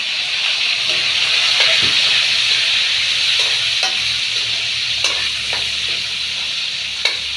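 Onion and tomato sizzle steadily in a frying pan, a constant bright hiss broken by occasional soft clicks and scrapes of stirring, with no talking.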